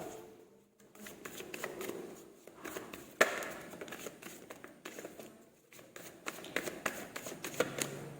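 Tarot cards are handled and shuffled close by, giving soft papery rustles, flicks and a few sharper slaps against a quiet room background, with no one speaking.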